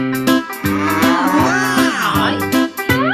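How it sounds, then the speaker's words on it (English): Cow mooing in a farm setting: loud, drawn-out tonal calls repeating several times in quick succession, close and clear with little else around them. "I see a cow."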